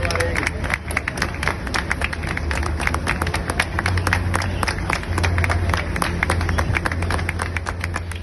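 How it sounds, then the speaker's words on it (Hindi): A crowd at Adana airport in Turkey applauds a departing NDRF rescue team with steady, dense clapping that carries on throughout, close and loud, with murmured voices underneath. "तुर्की के अदाना एयरपोर्ट पर रवानगी से पहले इस दल को वहां के लोगों ने तालियां बजाकर रवाना किया"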